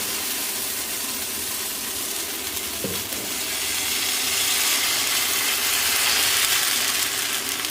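Ghee roast dosa batter poured onto a hot pan hisses and sizzles steadily, a bright frying crackle that swells louder in the second half, with a brief scrape of a utensil near the middle and no talk.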